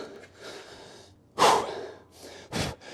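Heavy breathing right into the microphone during a workout: gasping, snorting exhales in uneven bursts, with two sharp, loud breaths standing out from softer panting.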